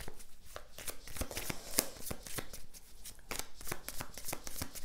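A deck of oracle cards is shuffled by hand for a daily guidance reading, making rapid, crisp riffling clicks and soft slaps in an uneven rhythm, close and fairly quiet.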